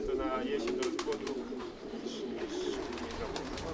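Racing pigeons in a loft coo in soft repeated calls with flutters, while someone talks over them.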